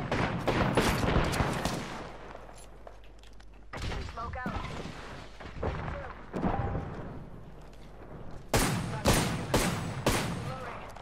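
Rapid bursts of teammate gunfire in the battle royale game Apex Legends, loud clustered shots in several volleys with game sounds and a voice talking over them.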